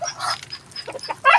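A duck gives a few short, nasal quacks close by, with a louder call at the end, set against a quiet background.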